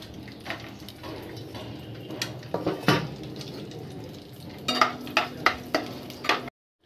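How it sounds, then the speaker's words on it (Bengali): Cashews with cinnamon, cardamom, peppercorns and bay leaves fry in a pan, a soft sizzle broken by several sharp clinks and taps of a spatula against the metal, clustered toward the end. "একটু ভেজে নেব।"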